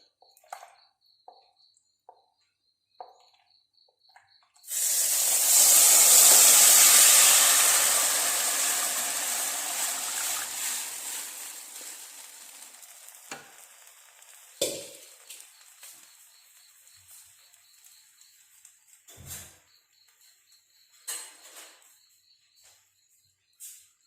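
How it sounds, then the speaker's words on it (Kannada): Milk poured into a hot pan used for wheat halwa, giving a sudden loud hissing sizzle that swells quickly and then slowly fades, followed by scattered small clicks and taps. "ಈಗ ಅದೇ ಬಾಣಲೆಗೆ ನಾನು ಮಾಡಿಟ್ಟ ಹಾಲನ್ನು ಹಾಕ್ತೇನೆ."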